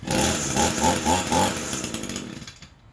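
An Echo two-stroke handheld blower engine hot-restarted by pull rope with the switch on and no choke, running loud and close with a rough, buzzing idle that fades slightly toward the end.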